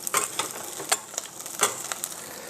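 Sausage pieces start cooking in a pan, a soft sizzle broken by irregular scrapes and clacks of a utensil moving them around, close and fairly quiet.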